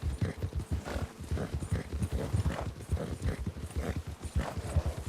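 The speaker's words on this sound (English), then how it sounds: "He's got his horse. The horse is on a pretty good steady pace." A horse's hooves clip-clop at a steady, even pace near a small settlement, a continuous rhythmic patter of close, moderately soft hoofbeats with no voices.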